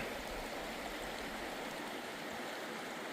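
Water in a creek at a mountain campsite rushes steadily, a constant broadband splash and gurgle with no breaks, fairly soft and close by, with no one speaking.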